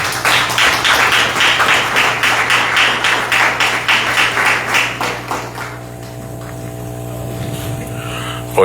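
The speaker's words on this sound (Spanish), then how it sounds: "Quiero que lo reciban con un fuerte voto de aplauso." An audience at a social work academic event welcomes a speaker with strong applause, loud rhythmic clapping for about five seconds that quickly dies away into a low hum.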